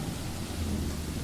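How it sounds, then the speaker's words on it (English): Steady rain and thunder from the horror visual novel game The Letter: a dense, even hiss of rainfall with a low rolling rumble underneath, continuous for the whole moment, with no voices. "The rain that has started sometime during the night doesn't help the mood."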